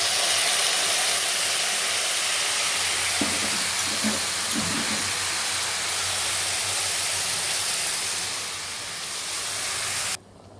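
Soaked tamarind and tomatoes hit hot oil with frying onions in a kanda curry, giving a loud, continuous hissing sizzle with a few stirring knocks, close up and steady until it eases near the end.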